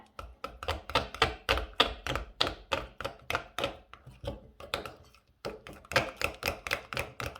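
Chestnut mousse ingredients are mixed together in a bowl with quick, rhythmic utensil strokes. Close, steady tapping and scraping runs in fast bursts with a brief pause partway through, and no one speaks.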